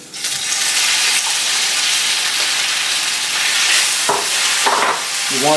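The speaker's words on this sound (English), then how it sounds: "Now I'm going to add in my chicken into this hot pan." Chicken pieces hitting a hot pan for an udon stir-fry, setting off a loud, dense, continuous sizzle heard close up, with a few scraping stirs toward the end.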